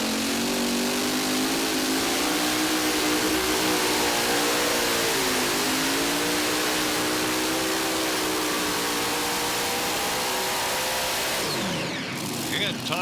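An Unlimited class pulling tractor roars down the track at the Dairyland Super Nationals tractor pull in Tomah, a loud sustained engine drone with shifting pitch that holds for several seconds before cutting off, with an announcer talking over it.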